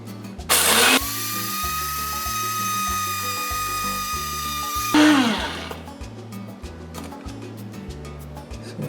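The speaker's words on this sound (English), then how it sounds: "we grind it until it gets to about grist quality" Electric grain mill grinding buckwheat into grist, a loud whining motor hum that starts abruptly, holds steady for a few seconds, then cuts off into ticking and rattling, with no talk.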